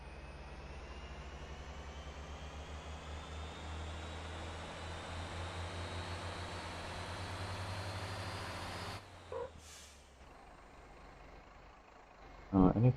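A truck in the Motor Town driving game accelerates with a steady, rising engine drone for about nine seconds, then the engine note cuts off abruptly, followed by quieter rumbling and a short burst near the end.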